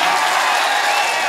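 An audience at a mushaira, a poetry gathering in Kalamnoori, Nanded, bursts into dense, loud applause. The clapping is continuous and sustained throughout, with no voices over it.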